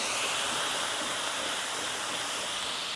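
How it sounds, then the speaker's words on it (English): Water sizzling and hissing in a hot pan being deglazed after cooking Persian smashed kababs, a steady, loud, broad hiss with no pauses and no voices over it. "I am gonna deglaze with just a little bit of water"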